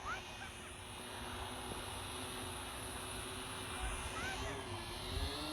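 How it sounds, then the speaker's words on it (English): A drone flies on a family farm, its faint, steady propeller whine buzzing at a distance under a wide outdoor ambience, rising and falling slightly as it moves. "Oh, look at this, we've got a drone."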